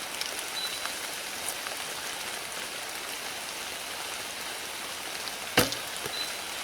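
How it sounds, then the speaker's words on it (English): Steady rain falling outdoors at an archery course, a dense even hiss of drops on surfaces throughout, with one brief sharp knock near the end and no talking. "Alright, here we are in the rain."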